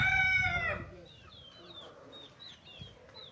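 A gamecock crows loudly up close in a short burst on a game farm, followed by quieter chirping birds and faint clucks in the background.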